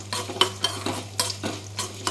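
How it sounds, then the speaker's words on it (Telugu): Ingredients for tamarind chutney fry on low heat in a pan. A utensil stirs them in a run of soft scraping strokes over a quiet sizzle. "చూసారు కదండి, ఇవన్నీ దోరగా వేపుకుందాము."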